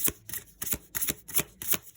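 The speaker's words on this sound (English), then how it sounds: "I haven't done a live shuffle" An oracle card deck is shuffled by hand in quick, regular bursts of riffling and snapping, about six close, crisp pulses heard with no talking.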